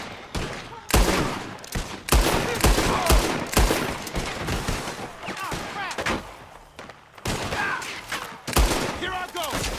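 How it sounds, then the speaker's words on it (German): A Gatling gun firing in Red Dead Redemption 2: dense rattling bursts of rapid gunfire alongside other shots, loud and close, with shouting voices mixed in. "He's going for the Gatling! Look out! He's firing!"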